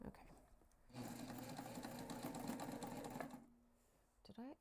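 A sewing machine stitches a backpack seam through a lining layer, starting after a quiet moment and running in one steady burst for over two seconds before stopping, followed by a brief rustle.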